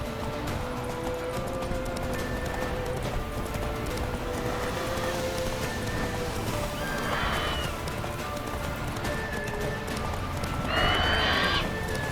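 Geralt's horse Roach gallops in The Witcher 3, steady clip-clop hoofbeats running throughout with two brief whinnies, under a constant loud background of game ambience and music.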